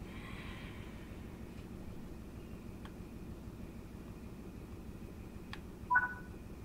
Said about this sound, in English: you can use the phone to contact the signaller as well